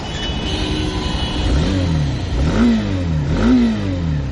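A Hero Xtreme 160R BS6 motorcycle engine idles and then revs twice, rising and falling sharply, loud and close with no speech.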